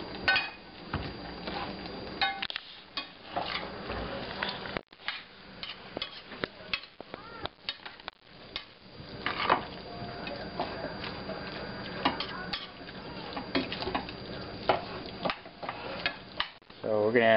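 Spoon scraping and clinking in a pan while Cuban picadillo with tomato sauce and cooking wine is stirred, steady rhythmic scraping with light sizzle under intermittent talking.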